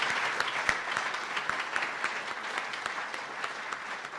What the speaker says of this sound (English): Can we get a round of applause for everybody,